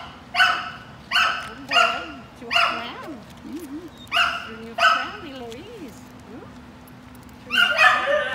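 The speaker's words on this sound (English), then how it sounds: "They're very noisy." Two dogs bark in short, sharp bursts at a steady pace, close by, with whimpers and yips between the barks and a pause before a final flurry.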